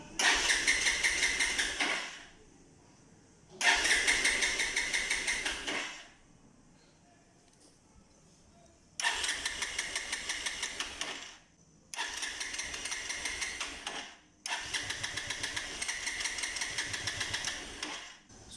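A Bajaj Pulsar 220 motorbike left unused for eight months cranks on its starter in five separate bursts of rapid whirring, each lasting a couple of seconds with quiet pauses between, without ever catching.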